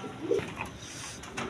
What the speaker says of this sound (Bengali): এখানে এক পেয়ার জার্মান বিউটি কবুতর, ক্রিমবার কালারের মধ্যে দেখেন